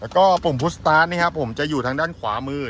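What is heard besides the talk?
No everyday noise stands out behind the speech.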